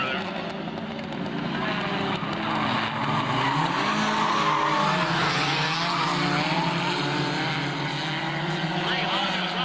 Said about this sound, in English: Three Hondas up front, Shadoway making it 4 now as the 33 joins in.